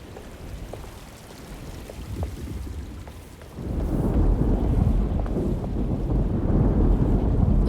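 A thunderstorm in the video game Alone in the Dark rolls in, with steady rain and low rumbling thunder that swells louder halfway through, with no talk over it.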